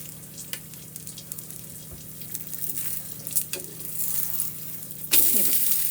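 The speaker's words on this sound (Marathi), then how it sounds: "हे शेकलं जातंय छान असं या साईडने मी तेल लावते याला" A methi paratha roasts on a hot griddle with oil, a steady soft sizzle with occasional light clinks of a utensil, ending in a sharper, louder burst of frying as more oil hits the pan.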